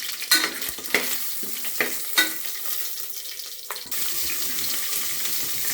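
Oil and pulao ingredients frying and being stirred in a pan, with sharp scraping stirs over a steady sizzle that swells louder toward the end.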